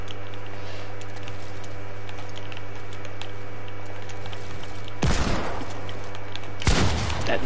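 Video game gunfire: two sharp, loud shots crack out near the end, the first around midway through the last third and the second shortly after, over a steady low game hum with no talk.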